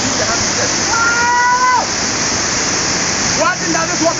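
Nchiraa Waterfall pours in a loud, continuous rush, with brief whistle-like tones over the roar near the start and end.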